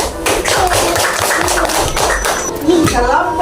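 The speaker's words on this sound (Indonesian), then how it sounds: "Kita kasih tepuk tangan untuk kelompok 3" Pupils in a fourth-grade classroom applaud a discussion group, loud, close, irregular clapping and tapping that continues steadily, with voices underneath.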